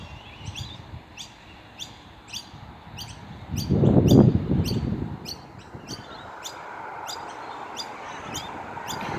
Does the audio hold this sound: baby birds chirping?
yes